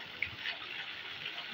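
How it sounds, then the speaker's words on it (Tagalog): Water from Pinagpatong Falls rushes in a steady, bright hiss, with a short splash near the start and no talk over it. "Ito po yung Pinagpatong Falls."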